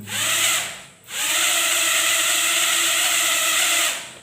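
Micro drone on a toothpick frame with brushless motors whining up while arming, a steady high-pitched buzz that stops briefly about a second in and then resumes and holds close and loud.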